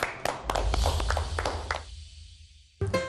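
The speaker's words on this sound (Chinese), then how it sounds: "这个必须给大家自己每个人一个掌声" Students in a traditional woodworking class break into applause for themselves. The dense, close clapping lasts nearly two seconds, cuts off abruptly, and is followed by a brief quiet and then a fresh burst of sound.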